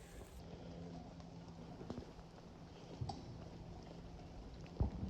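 Steady rain hisses through the Sam Houston National Forest with faint distant thunder rumbles and a few sharper drops or knocks, fairly soft and without voices.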